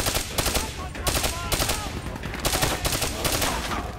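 Loud, close automatic gunfire from the video game Call of Duty Black Ops 3, fired in rapid repeated bursts with short gaps between them.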